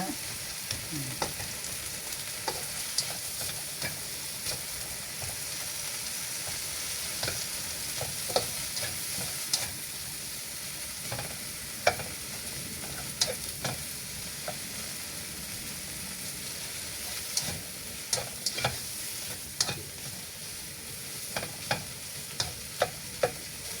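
Tomatoes are crushed and stirred in a frying pan, with steady sizzling and scattered scraping and tapping of the utensil against the pan.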